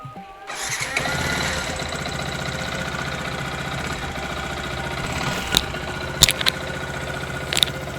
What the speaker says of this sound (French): Donc là, on démarre la moto.